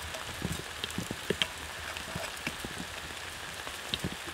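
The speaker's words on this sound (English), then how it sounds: "We're getting pummeled by some freezing rain right now." Freezing rain pummeling down outdoors, a dense continuous patter of drops striking surfaces with scattered sharper ticks and splats, steady and fairly close, with no voices.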